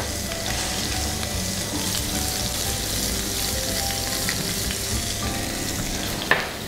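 Burger patties sizzle steadily in a flat-bottom pan, a dense continuous frying hiss at moderate loudness with a brief clatter near the end.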